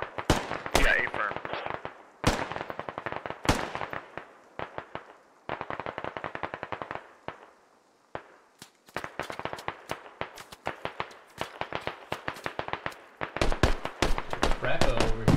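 Gunfire in the military shooter game Squad, with dense bursts of sharp rifle and automatic shots, some near and loud and others more distant, rattling in rapid clusters across the whole stretch while voices talk over the radio.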